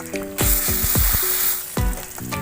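Spices with turmeric and Kashmiri chili powder fry in hot oil, a loud, steady close sizzle running throughout, with a few low knocks from stirring.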